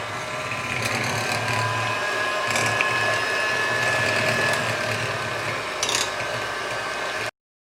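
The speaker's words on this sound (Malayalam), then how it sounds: "ഇനി നമുക്കിതൊരു ഹാൻഡ് ബ്ലെൻഡർ ഉപയോഗിച്ച് നന്നായിട്ട് ബീറ്റ് ചെയ്തെടുക്കണം." A hand blender beats egg whites and sugar for a white chocolate pastry, a steady close mechanical whir and rattle lasting about seven seconds before it cuts off abruptly.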